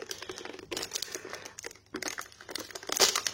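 Crinkly plastic packaging around a Honda CB500X motorcycle part is torn and unwrapped by hand during a 24,000 km service, giving close, busy rustling and crackling with a brief pause midway.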